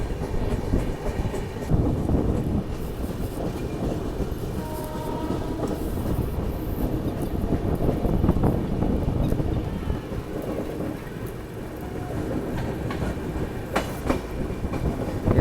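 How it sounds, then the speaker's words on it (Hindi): A train runs along a railway line near Fatehabad Chandravatiganj station, with a loud continuous rumble and clattering wheels throughout, a horn sounding over it, heard close by. "ये आ गई ट्रेन"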